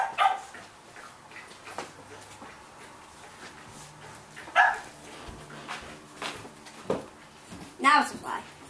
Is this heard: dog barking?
yes